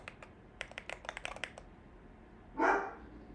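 Dog named Winnie lets out a single sharp bark near the end, after a run of quick keyboard typing clicks in a quiet room.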